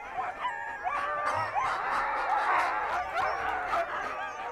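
Husky sled dogs bark, yip and whine together in an excited, continuous chorus close by, with overlapping high cries throughout.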